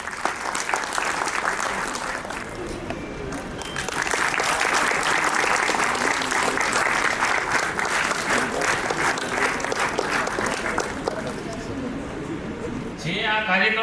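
An audience at an award ceremony, the Kaushalya Gaurav honour ceremony at ITI Jamnagar, breaks into sustained applause, the dense clapping swelling louder partway through and continuing steadily, with voices mixed in.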